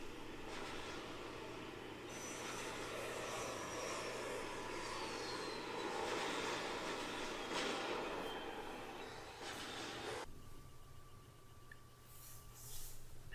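Aircraft engine in the flight combat game Sky Gamblers Air Supremacy on an iPad, a continuous loud roaring drone with whooshing swells that suddenly thins out near the end, no talking.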